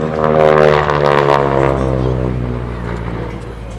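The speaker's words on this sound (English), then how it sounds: "That's a wonderful sound from that engine." A classic warbird propeller aircraft at an airshow drones past with a strong, harmonic engine note, loud and close, slowly fading and lowering in pitch as it moves away.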